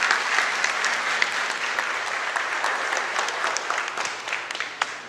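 A church congregation claps together in steady, full applause that fills the space evenly for several seconds, with a few sharper claps standing out near the end.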